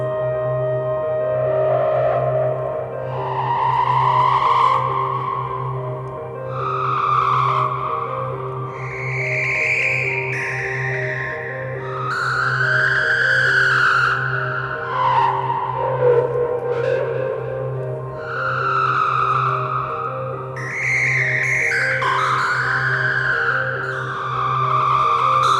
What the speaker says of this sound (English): I'm using noise to modulate the frequency of one of the oscillators, and it's giving this more like steam noise coming from a calliope